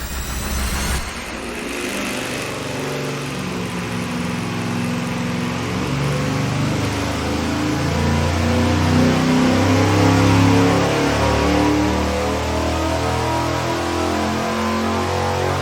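A Dodge 5.9 Magnum V8 runs on an engine dyno, a loud, steady mechanical roar that starts abruptly and swells slightly as it holds under load, with no voices over it.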